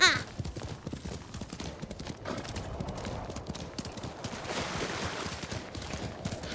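Horse hooves clip-clop in the Ghost of Tsushima video game on Iki Island, a steady, quick trotting rhythm at moderate level under ambient game sound, lasting the whole stretch.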